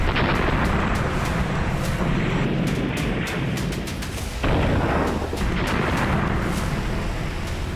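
Heavy, continuous rumbling blasts from missile strikes and explosions during attacks on Tehran, loud and dense throughout with repeated sharp bursts rolling into one another, no voices.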